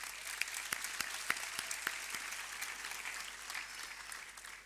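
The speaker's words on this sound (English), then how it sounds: "Let's give them all a huge round of applause," A graduation ceremony audience applauds, moderately distant clapping spread across a large crowd, with a few sharper individual claps standing out over the sustained patter.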